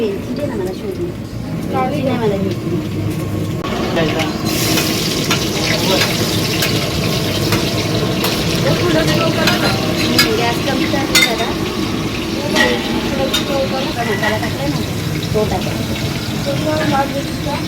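Onions browning in a pan for a large puja meal cooked by women in a chawl, a continuous sizzle with scraping stirs, close by under steady conversation among several women.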